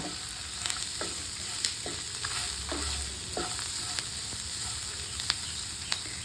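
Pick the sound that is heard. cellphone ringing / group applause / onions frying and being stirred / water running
onions frying and being stirred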